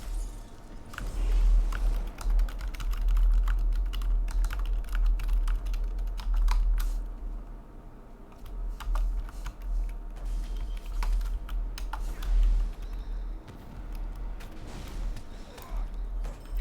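Continuous rapid clicking of computer keyboard keys, typed in uneven bursts during an online game session, over a low background rumble.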